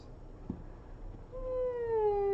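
A house cat gives a single drawn-out meow that slides downward in pitch, close and clear, after a quiet stretch with a faint tap in a room where resin dice are being made.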